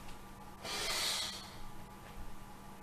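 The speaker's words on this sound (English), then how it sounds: "that's my roommate sniffing his nose" A roommate sniffs his nose once nearby, a brief breathy snort rising and fading over a faint steady room hum.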